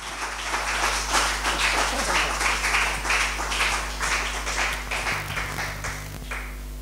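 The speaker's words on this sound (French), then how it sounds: "Est-ce qu'on peut d'abord acclamer pour le Seigneur Jésus?" Congregation clapping and applauding for the Lord Jesus during a church service, a steady dense wash of many hands that holds for the whole stretch over a low hum.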